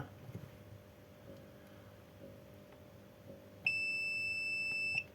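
A single electronic beep during component testing on a faulty air fryer's circuit board, a steady high-pitched tone lasting about a second and a half, clear against a faint, quiet background.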